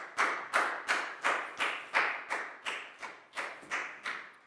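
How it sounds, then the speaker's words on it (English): Children in a Year 4 classroom clap in unison, about eleven evenly spaced, crisp claps in a steady rhythm, close and clear with no talking. "High five and a big round of applause for Net, please, guys."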